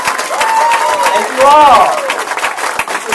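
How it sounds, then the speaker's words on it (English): A crowd at a political campaign kickoff claps and cheers continuously, with a voice speaking over the applause throughout. "Give yourselves a big round of applause"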